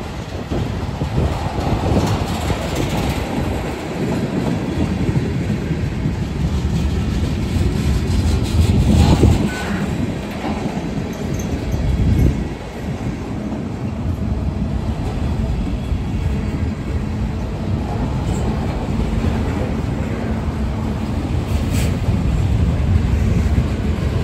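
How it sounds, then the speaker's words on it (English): A freight train hauling new Canadian National boxcars rolls past close by, a loud continuous rumble and wheel noise with faint clickety-clack that holds steady throughout. "new Canadian National boxcars there"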